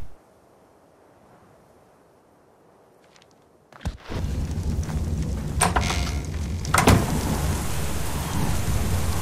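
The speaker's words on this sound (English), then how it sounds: "Oh, it's all nasty and foggy and rainy out" Stormy weather in Ark: Survival Evolved. After a quiet start, a sharp thunderclap breaks in, then heavy rain keeps up a dense hiss with another crack of thunder rolling through.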